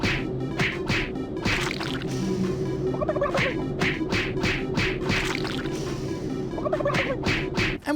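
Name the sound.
turkeys gobbling in a Doom video game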